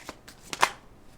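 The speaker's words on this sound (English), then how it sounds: "now I'm going to pull a love card for you" Tarot cards are shuffled by hand in a few quick, crisp riffling bursts, close and fairly loud, with no talking in between.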